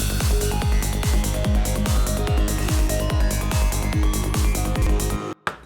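The Vital synth SQ Caveman preset runs a random 16th-note sequence in a psytrance setting, with a steady thumping kick under loud, busy, shifting synth notes that cut off near the end.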